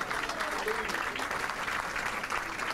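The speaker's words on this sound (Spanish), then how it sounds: "El aplauso de la gente." A crowd claps continuously at a cinema reopening, a dense steady wash of applause with a voice speaking over it.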